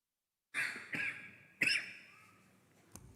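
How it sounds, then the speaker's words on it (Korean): A woman preacher coughs during a church sermon: three quick, close coughs in a row, then a brief fainter throat sound after a short pause. "자꾸 기침이 나서"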